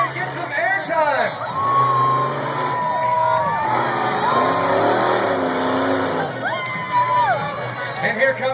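The Barbarian monster truck roars around a dirt arena and launches for airtime, its engine revving and shifting in rising and falling sweeps over crowd noise, with an announcer talking throughout.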